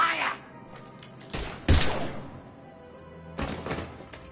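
Gunfire from the video game Mass Effect 3: a few sharp broadband bursts near the middle and another volley toward the end, with dialogue in between.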